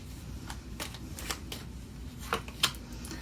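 Tarot cards being shuffled at close range, with faint soft riffles and a few sharper flicks over a quiet background hum.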